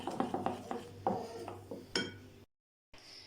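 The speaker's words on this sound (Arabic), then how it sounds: "صافي انا نخلط هاد العجينه هادي غنكبها هنا في المول" Cake batter being mixed in a bowl, with repeated close scraping clinks of a utensil against the bowl in an irregular rhythm, moderately loud, ending in a brief silence.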